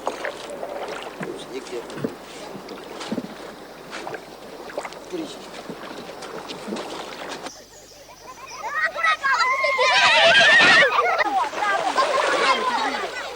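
A canoe out on open water carrying a tawny shark weighing over 100 kilos, with soft paddle strokes and water movement under a spoken voice, followed by louder splashing and sloshing near the end.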